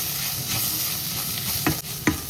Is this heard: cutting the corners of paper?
no